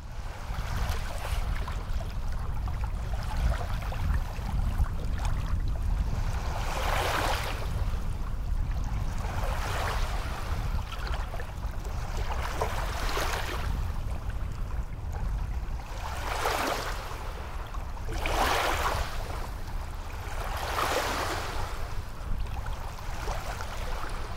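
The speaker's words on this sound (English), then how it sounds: "This is the sound of the beach in Grand Marais." Waves wash steadily onto the beach at Grand Marais, a continuous broadband rush with surges every few seconds, close and loud with no voices.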